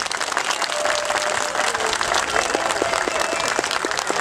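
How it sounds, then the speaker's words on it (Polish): Audience applause at the opening of a contemporary folk culture festival in Kamień Pomorski, a steady dense clapping from a crowd filling the whole stretch without pause, with a voice faintly mixed in. "Jeszcze raz wielkie brawa dla was."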